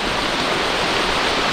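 Steady broadband rush of a river flowing beside a rainforest campsite, loud and unbroken, with no voices.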